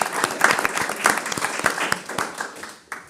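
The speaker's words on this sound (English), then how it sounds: "Can we get a big round of applause?" Applause from an audience at a table discussion with four creatives, a dense patter of clapping that rises and falls across the moment before thinning out near the end.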